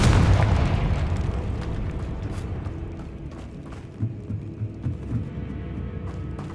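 A Confringo fire spell blasts in the video game Hogwarts Legacy, a heavy booming explosion that rumbles and fades, followed by a few smaller thuds and crackles.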